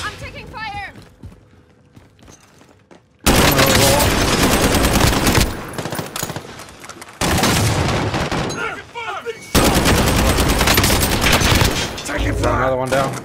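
Gunfire in the video game Warzone, loud bursts of rapid automatic fire in several long stretches with brief pauses between, close and harsh, with players talking over it.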